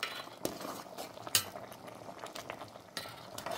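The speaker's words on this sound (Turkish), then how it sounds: "Şimdi bir karıştırıp bakacağım. Ve asıl olay başka. Göreceğiz şimdi. Bakın böyle bir karıştırıyorum." Spoon stirring celery cooking in a pot for an orange-celery dish, with soft scraping and clinks against the pot over a faint simmer, a few sharper knocks standing out, close and fairly quiet.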